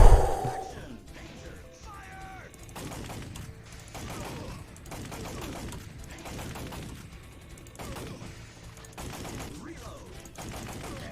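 Gunfire from the arcade shooter Time Crisis, with repeated bursts of shots and clatter coming in waves over a steady game soundtrack, and a voice audible faintly at times.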